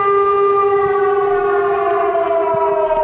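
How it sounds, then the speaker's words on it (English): Air raid siren in Ukraine wails with a steady, loud, sustained tone, slowly falling slightly in pitch, heard alone. "And air sirens are heard often here."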